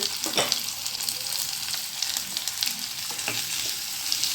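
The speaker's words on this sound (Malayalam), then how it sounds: "ഇനി ഈ ഉള്ളി ഒന്ന് നന്നായി വാടട്ടെ" Onions sautéing in a pan for a Kerala onion theeyal, a steady close sizzle with occasional stirring scrapes, no voices.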